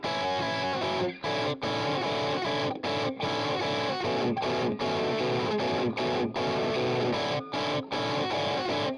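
Programmed electric guitar through an Amplitube Orange Dual Terror amp simulation, a heavily distorted, chorus-tinged part with sustained chords broken by short rhythmic stops, loud and alone with no voices.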